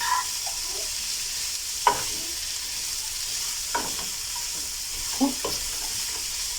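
Carrots fry in a crowded pan with a steady, even sizzle throughout, punctuated by a few soft clinks and stirring scrapes at irregular moments.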